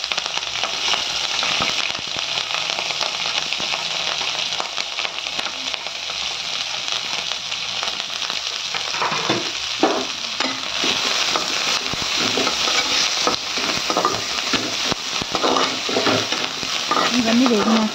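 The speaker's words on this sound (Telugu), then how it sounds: "పచ్చిమిరపకాయని వేయించుకోవాలి." Green chillies fry in hot oil in a pan while making cauliflower 65, a loud, continuous sizzle broken by occasional stirring scrapes, with no voices.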